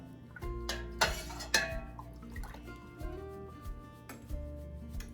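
A metal spoon stirs cheese culture into raw milk in a pot for fresh mozzarella string cheese, giving close, irregular clinks and scrapes against the pot's sides with soft liquid swishing between them.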